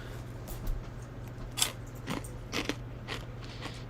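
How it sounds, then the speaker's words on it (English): Crunchy food being bitten and chewed close up, a handful of sharp crackling bites spaced unevenly over a low steady hum, no talking. "Keep that crunching, BG."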